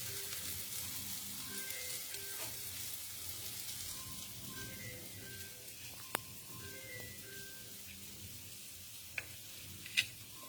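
Spice masala sautés quietly in a pan with a soft, continuous sizzle, broken by a few faint clicks and ticks near the end.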